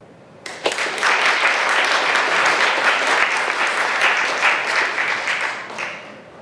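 A crowd at an Oklahoma City museum art event bursts into applause to welcome a speaker. The clapping starts abruptly, then holds as a dense, steady roar of many hands for about six seconds before easing slightly at the end.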